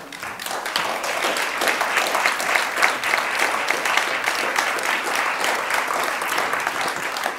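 An audience at a poetry reading applauds to welcome three poets, a full, sustained roar of many hands clapping, even and close, lasting the whole stretch.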